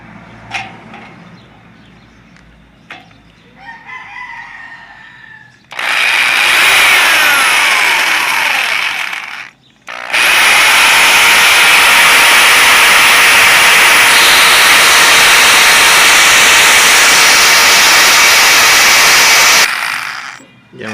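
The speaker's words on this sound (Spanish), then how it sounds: "Entonces procedemos a perforarlo con el taladro." A power drill whines at high speed in two long loud bursts while boring through metal, the second lasting about ten seconds, after quieter handling noises at the start.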